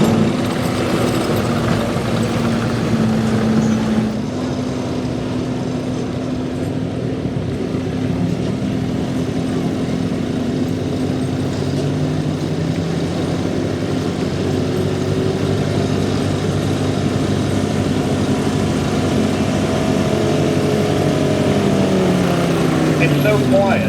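A Beast of the East pulling truck's engine roars loud and steady at a truck pull, a sustained droning rumble with shifting tones as it labors down the track, with no words spoken over it.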